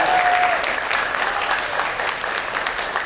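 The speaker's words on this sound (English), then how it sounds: "So let's give Ms. Valutis a big round of applause." A room of people gives a warm round of applause for volunteer Ms. Valutis at a school volunteer readers welcome, steady, dense clapping with no break.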